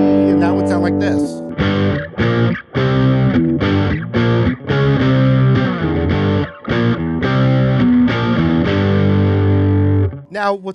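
An electric guitar plays a distorted power chord riff with effects, loud and close, in a choppy rhythm of repeated chord stabs and short gaps, ending with a brief tail.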